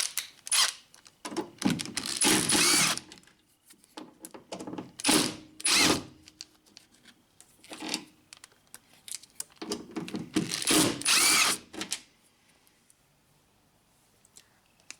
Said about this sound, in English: I'm going to use my impact driver with a number 3 JIS bit